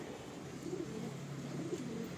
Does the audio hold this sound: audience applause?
no